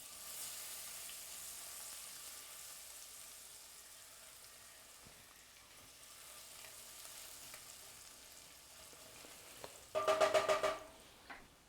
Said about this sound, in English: Garlic in.